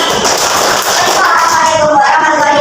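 Classroom audience clapping for a student group during a teaching session, a loud close burst of hand claps that carries on steadily, with voices mixed under it.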